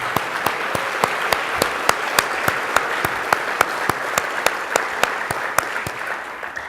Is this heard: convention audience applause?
yes